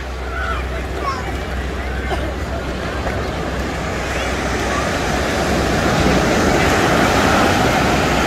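Ocean surf at the beach in Ocean City, New Jersey, produces a continuous broad wash of waves mixed with wind noise, building slightly louder toward the end, with faint voices in the background.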